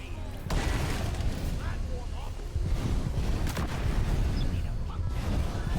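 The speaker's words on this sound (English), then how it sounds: "Let's go ahead and throw a second grenade." Grenade blasts boom through a Deep Rock Galactic cave mission, with a sharp burst followed by rolling rumbles and scattered crackling debris, loud and continuous, while a voice talks over the action.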